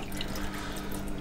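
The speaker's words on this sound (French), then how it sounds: "il faut que je vide l'eau qui est à l'intérieur. Là, ça coule." Water draining out of a washing machine, a steady, close, continuous rush of running water with no voices over it.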